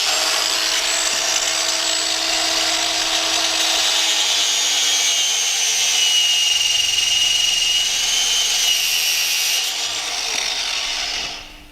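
Pipe being cut by hand while fitting an oil catch can, likely with a saw: a steady, continuous high-pitched rasping grind that runs unbroken for about eleven seconds at close range and then stops abruptly, with no talking.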